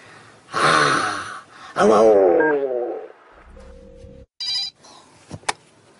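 Telephone ringing as a caller phones a horror radio show, with short electronic rings in bursts amid loud voices and other sounds.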